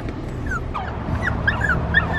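A dog on the way to the groomer lets out a string of high, wavering whines and whimpers, close by over a low car-interior rumble.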